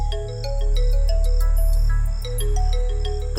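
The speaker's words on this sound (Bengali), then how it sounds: "ফোন আসছে রে" A phone ringtone plays alone, a steady repeating electronic melody of bright tones over a low hum, continuous at moderate loudness through the whole stretch.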